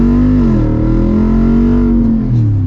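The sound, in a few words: Jeep Wrangler with AEV kit engine revving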